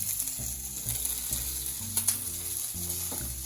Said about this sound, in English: we're going to cook the fat a little and we're going to let it sear